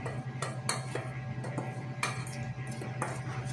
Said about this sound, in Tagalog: I-mix lang natin ng maayos para sa ganun na mag-mix talaga yung flour at saka yung natin cornstarch.